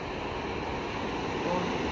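Stormy sea surf at Anapa rushes and roars in a continuous close wash of water and wind, with no clear voices.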